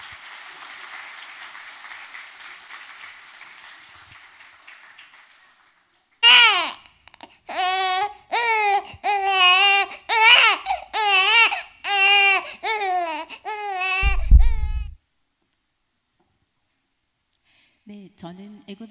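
A baby's crying in a church stage play about the infant Moses: after a stretch of fading applause comes a run of loud, wavering wails in repeated bursts, close and alone, then silence.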